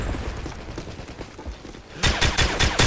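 Dragunov sniper rifle fire in Modern Warfare 3 rings out in a rapid string of loud, sharp shots over a rumbling battle background.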